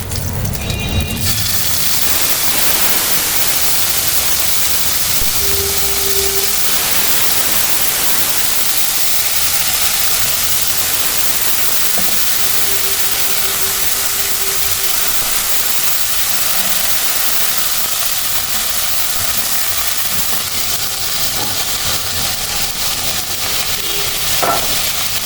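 Onion paste and fish frying in a pan, a loud, continuous hiss and sizzle with occasional stirring scrapes, lasting throughout with no voices.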